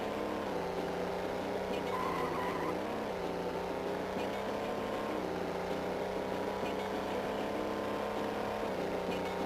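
Car engine in a Game Boy Advance racing game, a steady synthesized droning hum that shifts pitch slightly as it revs, sustained throughout with a buzzy tone under game music.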